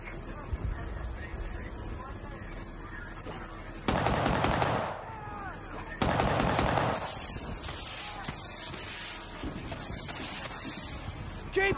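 Bursts of automatic gunfire from Battlefield: Bad Company on Xbox 360 come in loud, rapid volleys separated by quieter stretches, mixed with shouted voices and battle noise.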